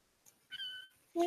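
A very young kitten gives a short, thin meow, then a second meow begins right at the end, both faint and close in a quiet room.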